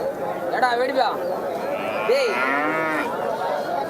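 At a busy cattle market in Mattrapalli, Tirupattur district, cattle moo with a long rising-and-falling call in the middle, heard under near-constant talk from someone speaking over the crowd.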